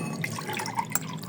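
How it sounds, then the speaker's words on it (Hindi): Tamarind water is poured for pani puri, a brief close splashing trickle of liquid with small drip-like plinks. "अब पहले हम लोग इसमें डालेंगे इमली का पानी।"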